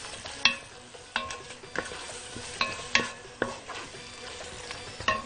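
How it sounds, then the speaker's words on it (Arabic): Salt, pepper and spices for a chicken shawarma marinade are stirred together. Regular scraping strokes come roughly every half-second, close and distinct, with a faint sizzle-like hiss underneath and no voices. "كده بقى انا بحط اهو الملح والفلفل اللي هو بتاع التتبيله نفسها، نقلب كله مع بعض كده"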